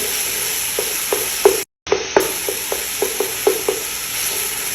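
Meat stirred with tomato paste in a hot pan for a mixed stew: a steady sizzle under a regular series of scraping, tapping spoon strokes, briefly cut out for a moment partway through.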